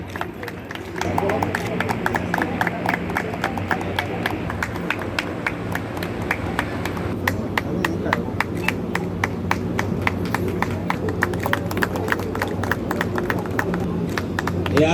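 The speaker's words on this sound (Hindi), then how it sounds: "जोरदार तालियां।" Sustained applause from an audience at a bank customer-outreach event, dense rapid clapping from a crowd filling the whole stretch, steady and fairly loud with voices faintly underneath.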